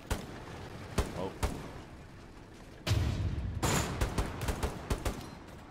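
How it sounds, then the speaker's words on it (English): M1 Garand rifle shots in the video game Hell Let Loose, sharp cracks spaced out early, then a denser run of shots and battle noise with voices in the background. "I hear a M1 Garand."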